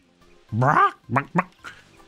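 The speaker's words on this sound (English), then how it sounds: "Bird, bird noises, yeah." Squawking bird noises in the Banjo-Kazooie video game, a nasal quacking call followed by a few shorter clipped squawks in quick succession, loud and close.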